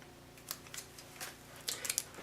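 Paper backing is peeled off a small adhesive collar stay, producing soft, close, faint crinkling ticks and short peeling scratches in quick bursts against a quiet room.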